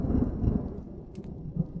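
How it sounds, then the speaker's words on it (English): Heavy rain hammers on a cabin roof at night as a deep, rolling thunder rumble swells and fades, dark and close. "Rain hammers against the roof, relentless and depressing."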